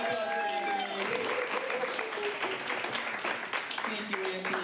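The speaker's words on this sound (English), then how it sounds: "Little round of applause for Anthony." An audience at a stand-up comedy show claps in a warm, steady round of applause, close and continuous, with a performer's voice heard over the start.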